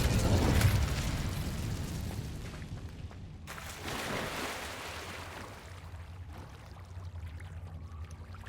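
The Incendio fire spell goes off in Hogwarts Legacy with a loud, booming fiery burst at the start, then a rushing roar that swells again midway and slowly fades into crackling.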